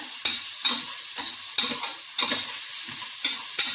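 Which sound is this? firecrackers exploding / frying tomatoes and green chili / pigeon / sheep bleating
frying tomatoes and green chili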